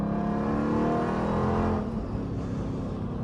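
A widebody Jeep Trackhawk pulls hard from inside the cabin, a loud steady engine roar with a sustained whirring supercharger whine that eases off toward the end, continuous and close with no talking.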